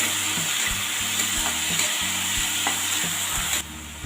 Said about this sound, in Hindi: अब हम ऐड कर रहे हैं इसमें एक टमाटर और साथ में हरी मिर्च। अच्छे से भून लेते हैं।